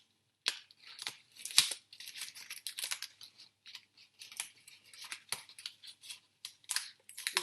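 Adhesive tape is torn from the roll and wrapped around the cap of a homemade rain stick, making a close series of short crackly rips and crinkles with no talking.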